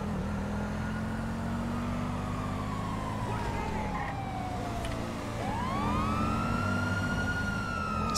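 Police car siren in GTA 5, a continuous wailing tone sweeping up and down over steady engine and traffic rumble, rising and falling throughout with a renewed upward sweep near the end.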